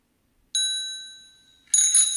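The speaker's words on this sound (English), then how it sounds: "Definitely bicycle bell" A bicycle bell rings twice in a sound-guessing game, two bright metallic dings with a lingering ring between them, the second strike more cluttered and a little louder, heard alone.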